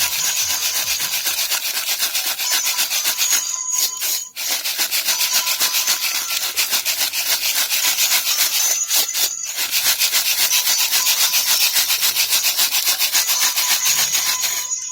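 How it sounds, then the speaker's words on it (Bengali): Oil cake and soil, two kilograms of each, being sifted by hand through a sieve, a steady scratchy rubbing that runs continuously and close, broken by two brief pauses. "এই দু কেজি খোলের সঙ্গে দু কেজি মাটি মেশাতে হবে এরকম করে চেলে নিতে হবে"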